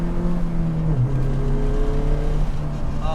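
Honda S2000 with a new loud aftermarket exhaust, top down, engine droning and revving with pitch shifts as gears change, close and loud throughout.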